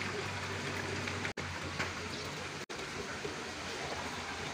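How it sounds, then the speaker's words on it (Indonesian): A small artificial stream flows beside a pond at a container hotel in Batu, giving a steady, even rush of water that fills the space without a break. "Ada kolamnya. Sungai kecil. Sungai buatan."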